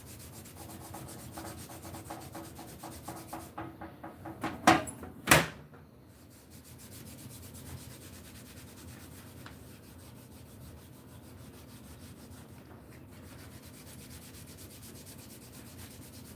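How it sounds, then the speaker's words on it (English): An old t-shirt rubs over a dyed leather sheath, making a soft, continuous scuffing close by, broken midway by two sharp knocks, then quieter rubbing with no voices. "It's just basically rubbing it with an old t-shirt here."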